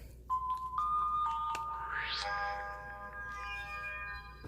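A Samsung Alltel flip phone plays its power-off tune, a short electronic melody of clear ringing tones with a brief rising sweep, close and moderately loud, fading out with no talking.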